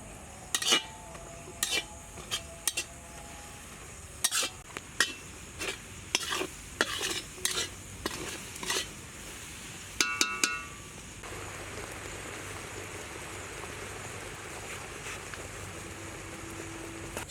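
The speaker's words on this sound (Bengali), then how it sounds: "রসুন আর পেঁয়াজটা দিয়ে দেবেন, তারপর একটু নেড়ে নেবেন।" Garlic and onion frying in a pan, stirred with a utensil that scrapes and clinks in bursts over a steady sizzle. The stirring stops and the frying hiss continues alone.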